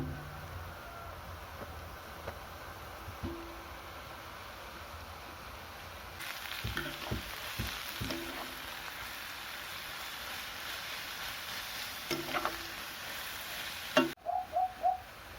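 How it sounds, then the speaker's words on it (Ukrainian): Onion and carrot sizzle softly in a pan for borscht in a rural kitchen, a steady faint frying hiss broken by scattered stirring scrapes and a few clinks near the end. "Піджарюємо цибульку майже до золотистого кольору і вкидаємо морковочку"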